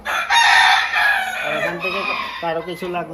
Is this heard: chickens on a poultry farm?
yes